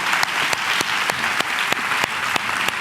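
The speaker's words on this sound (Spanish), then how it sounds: "Un aplauso a estos profesionales que nos han ayudado" An audience at a panel talk on compassionate listening applauds the professionals who helped them. Steady, full clapping runs throughout, punctuated by sharp, regularly spaced louder claps.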